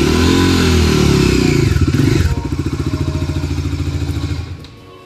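A Bajaj Dominar 400 BS6 motorcycle's exhaust sounds up close. A loud, deep blip is followed by a throbbing, bassy idle with a clear pulsing beat that drops away near the end.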